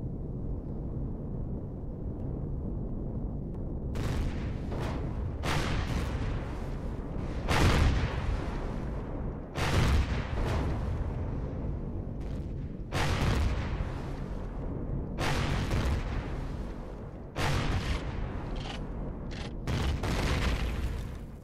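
A ship is blown up in an Empyrion Galactic Survival space battle: a long run of loud explosions and booms bursts out at irregular intervals over a constant low rumble.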